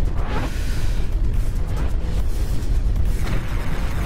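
Booming explosions in the video game Beat Hazard, with a couple of rumbling low blasts rolling over a continuous loud, dense game soundtrack and no voice on top.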